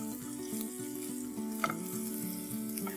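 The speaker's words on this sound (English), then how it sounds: "While the onions are frying up" Onions sizzle steadily in a hot pan, a continuous crackling fry with a faint clink or stir now and then.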